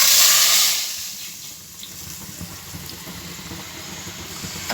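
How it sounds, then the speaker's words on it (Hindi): Hot tempering oil with golden-browned garlic is poured into cooked mung and masoor lentils, giving a loud burst of sizzling hiss that fades into a softer, steady crackle. "अब इसको हम लगा देंगे तड़का"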